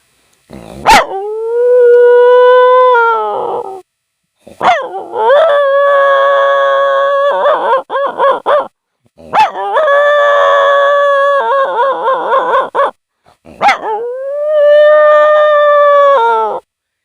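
A man imitates a dog howling at night, with four long, wavering howls separated by short breaks. Each howl rises, holds and falls away, loud and close, with no other voice.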